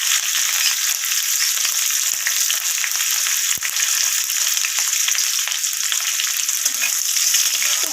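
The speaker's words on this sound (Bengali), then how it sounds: "এরপর আমি কেটে রাখা কাঁচা লঙ্কাগুলোকে এখানে দিয়ে দিলাম।" Chopped green chillies hit hot tempering oil with curry leaves, giving a loud, steady sizzle and crackle that runs unbroken, with a few clicks of a spoon in the pan.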